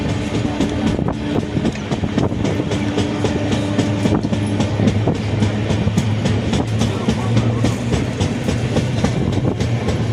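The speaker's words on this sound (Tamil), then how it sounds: "இப்போ நம்ம விருத்தாச்சலம் ஸ்டேஷனுக்குள்ளே என்டர் ஆகிட்டு இருக்கிறோம்" A train rolls into Virudhachalam railway station with continuous loud rumble and rhythmic clickety-clack of wheels over rail joints, recorded close from on board.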